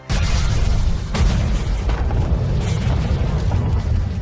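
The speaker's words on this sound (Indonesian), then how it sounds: "Bom pun akhirnya meledak." A bomb detonates in a thriller film, a heavy booming blast that hits at once and rolls on as a dense, loud rumble for several seconds with no voices.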